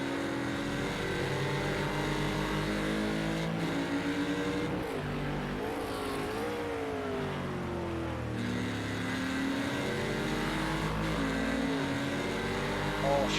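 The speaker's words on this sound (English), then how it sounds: "You hear a lot of tyre squeal going ahead from Pretzel." A Porsche race car's engine drones with shifting pitch as it carries speed through corners, accompanied by tyre squeal, heard continuously at moderate loudness with a brief dip midway and no talk over it.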